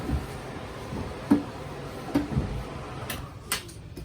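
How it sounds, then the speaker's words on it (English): Storage drawers in a 2021 Wildwood 273QBXL travel trailer being opened and shut, giving a few soft, scattered knocks and sliding clunks over a quiet room background, with a couple of sharper clicks near the end. "Drawers."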